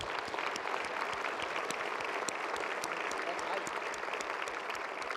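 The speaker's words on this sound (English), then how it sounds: "Can we give them a quick round of applause, please?" A conference audience at a medical continuing-education opening ceremony gives a round of applause for students, a steady, dense wash of clapping that holds evenly throughout without voices.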